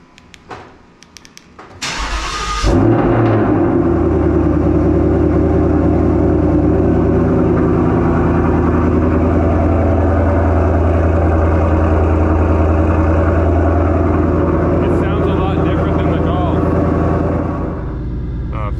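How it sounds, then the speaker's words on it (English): A 2020 Ford Mustang GT engine, cold after sitting 5 or 6 days in a garage, cranks briefly then fires up with a loud roar, settling into a deep, steady rumbling idle at close range. "let's first do like a 5 or 6 day cold start in the garage and see what it sounds like"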